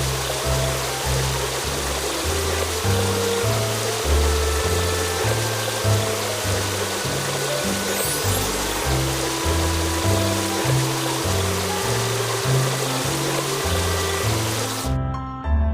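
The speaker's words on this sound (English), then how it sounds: "Now rinse off the foam." Cartoon water spray rinses foam off a car at a car wash, a continuous rushing hiss of water over a looping bright music bed, ending abruptly with a short chime.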